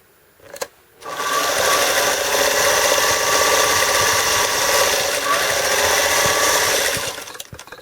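A sewing machine stitching pieced quilt triangles runs in one continuous fast whirring burst of about six seconds, close and steady, starting abruptly after a short click and stopping cleanly.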